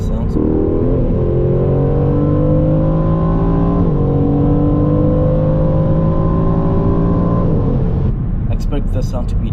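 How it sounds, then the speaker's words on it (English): An Aston Martin Vantage with a Mercedes-sourced engine revs at full throttle, loud and close, its pitch climbing through two long pulls separated by a brief shift, then cutting off abruptly near the end. "Here's how the engine sounds."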